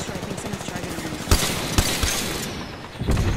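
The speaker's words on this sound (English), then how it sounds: "someone's shooting at us" Gunfire in the battle royale game Apex Legends: a few sharp shots ring out around 1.3 s, 1.8 s and 3.1 s over a steady background of game ambience, with one heavier burst standing out as loudest.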